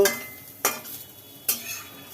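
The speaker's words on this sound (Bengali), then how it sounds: "আলু উচ্ছেটা ভাজা হয়ে গেল" Potato and bitter gourd frying in a pan at home, a soft steady sizzle broken by two sharp stirring scrapes, close and fairly quiet, with no talking.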